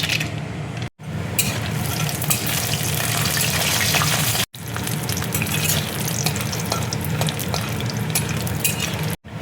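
Continuous loud sizzling of small lentil dumplings frying in hot mustard oil, with a few brief cuts in the sound and no talking.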